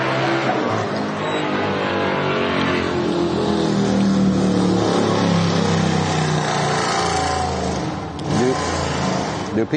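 A loud motorcycle engine revs and drones continuously throughout, harsh and close with a steady roar and slight swells in pitch.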